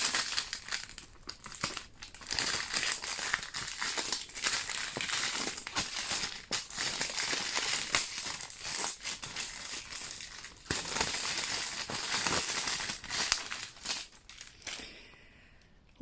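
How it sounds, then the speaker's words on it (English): Plastic and cardboard toy packaging for Mattel Color Reveal mermaid dolls being ripped open, a long run of loud close crinkling, tearing and crumpling with short pauses, ending in quiet. "there's something very satisfying about ripping down this packaging"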